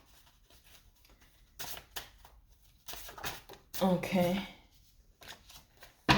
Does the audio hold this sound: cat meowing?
no